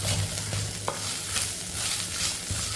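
Curry leaves and chopped green chillies sautéing in a hot pan, giving a steady close sizzle and frying crackle with scraping stirs and occasional light clinks, no talking.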